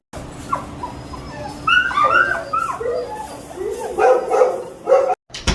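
Dogs at a dog training center and daycare whimpering, yipping and barking in short bursts, close and fairly loud, with high whines clustered in the middle and end.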